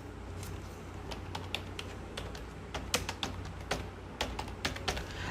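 Fingers type a search query on a computer keyboard, producing a steady run of crisp, close key clicks at an uneven rhythm, clustering into quicker bursts toward the end over a low background hum, with no voices.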